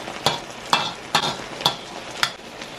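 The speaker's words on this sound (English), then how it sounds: "And now I'm gonna stir." Spoon stirring fried saltfish and okra with a little ketchup in a sizzling pan, five sharp scraping strokes at a steady rhythm over a continuous soft frying hiss, close up with no talking.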